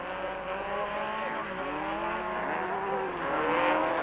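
Race cars battle on a circuit, among them a turbocharged VW Beetle, with engines roaring and revving at a steady, loud level as the cars run close together, and a faint commentator voice underneath.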